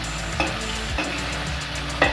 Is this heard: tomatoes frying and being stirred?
yes